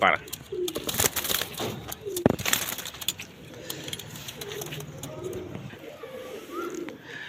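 Domestic pigeons in a loft coo in low, rolling bursts, with sharp clatters and soft voices in the background. The cooing sits close and steady, lasting the whole stretch.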